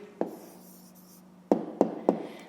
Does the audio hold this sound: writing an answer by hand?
yes